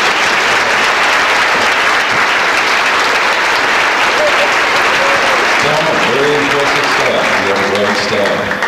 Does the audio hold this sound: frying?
no